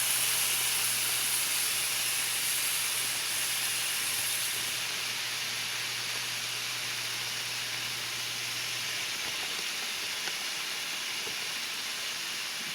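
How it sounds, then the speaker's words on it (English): Marinated steak pieces searing in a hot pan, a constant loud hiss that holds steady throughout with no talking. "Going to go in with our steak pieces and allow those to cook."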